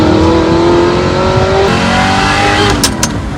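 A car pulls hard through its gears on wet roads after a rainstorm, the engine note rising steadily and loud in the cabin, then a shift and climb again, with a brief chirp near the end.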